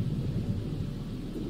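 Thunder from a lightning storm rolls as a low, steady rumble close by, with a faint wash of rain and no voices.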